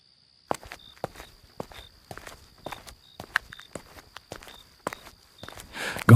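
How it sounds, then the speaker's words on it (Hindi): Footsteps approaching as a horror story sound effect, about a dozen evenly spaced crisp steps growing nearer and louder over a faint steady insect-like whine, ending in a louder rush. "तभी अचानक कदमों की आहट सुनाई दी।"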